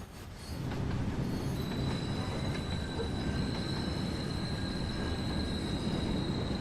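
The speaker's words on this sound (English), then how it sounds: "These carriages really do sound like they've got handbrakes on, but they don't actually have working handbrakes, so they couldn't." Railway carriages in a train simulator game squeal continuously as though their handbrakes were on, a sustained high metallic wheel screech over a steady rolling rumble, constant and prominent throughout.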